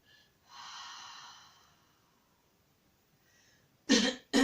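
A slow breath rushes out through the mouth, a soft airy exhale lasting about a second, close and alone. After a pause come two short sharp bursts of breath at the very end.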